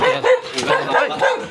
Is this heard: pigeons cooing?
no